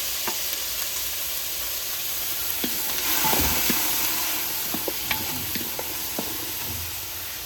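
Onion sizzling and frying in a pan while being caramelized, a steady hiss under occasional stirring scrapes and clicks, close and moderately loud, with no talking.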